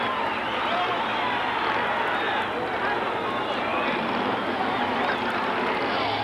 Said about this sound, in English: Crowd cheering in anticipation.